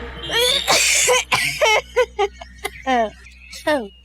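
Several short coughing bursts, close and fairly loud, separated by brief pauses, with some voiced throat sounds mixed in.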